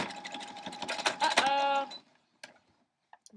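A home sewing machine stitches a quilt seam in a quick, rattling mechanical run that stops abruptly, leaving a few faint clicks and knocks afterward.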